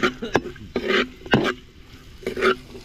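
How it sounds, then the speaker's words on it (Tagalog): Ginger frying in hot oil for a dish of sinarsahan mudfish and catfish, with a soft sizzle broken by several sharp stirring clatters of a utensil in the pan. "Luya po muna natin unahin para po maperito"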